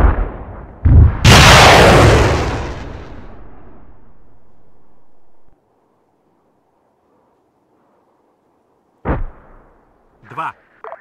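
Explosions in Donetsk: a loud, close blast with a roaring rumble that fades over several seconds, then silence before a sharper distant boom and brief trailing noise.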